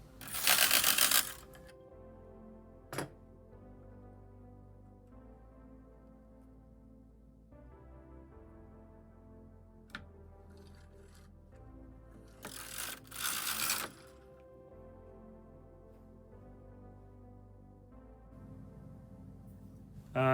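A vintage Knitmaster Mod 100 knitting machine finishes a Fair Isle patterned row, with bursts of clacking carriage travel at the start and middle and sharp ratchety clicks between them. The sound is close and mechanical, with no talking.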